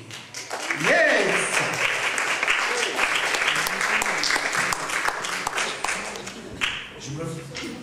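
A café audience claps for a performer, sustained applause that holds steady for most of the stretch and thins out near the end, with voices mixed in.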